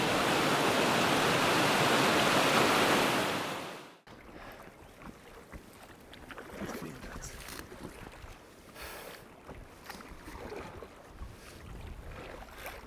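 Rapids rush loudly and steadily for about four seconds, a dense broadband roar, then cut to quieter rippling water and faint paddle splashes as a canoe is paddled around the rapids through a calmer channel in Swedish wilderness.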